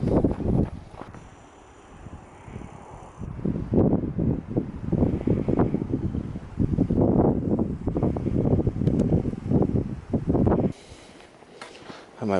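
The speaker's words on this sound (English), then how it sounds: "I wonder if you can hear me through that wind." Strong wind blows outdoors in a forest at night, gusting in loud, rough buffeting bursts against the microphone with brief calmer gaps.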